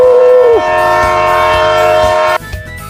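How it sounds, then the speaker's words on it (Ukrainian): A train rolls along with a long, loud horn blast as a sound effect in an animated tale, the steady rumble continuing before cutting off sharply near the end. "А потяг ту-ту."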